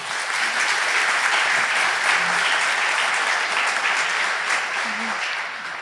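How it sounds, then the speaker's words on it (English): Sustained applause from a large crowd at an annual meeting, dense and even clapping that carries on throughout. "Please give her a round of applause."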